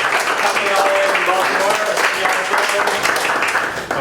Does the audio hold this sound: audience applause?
yes